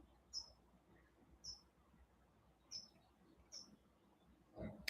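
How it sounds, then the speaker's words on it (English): Birds outdoors give short, high chirps at spaced intervals, four or five faint calls in a row over a quiet background hiss. "looking at the birds outside, twittering."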